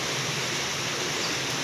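Artificial rain water pours steadily down from above in front of a house, a dense, continuous hiss of falling water with no break and no voices.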